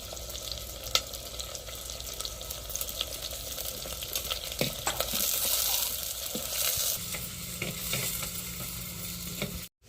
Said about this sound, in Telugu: దీన్ని వేగనిచ్చి తర్వాత అయితే కరివేపాకు వేసుకున్నాం